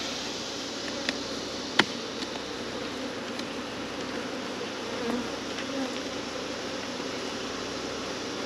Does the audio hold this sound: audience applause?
no